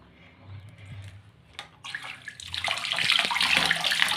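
Crabs are washed under running water, first with soft splashes and handling, then a steady rushing stream from a tap filling a basin, close and growing louder.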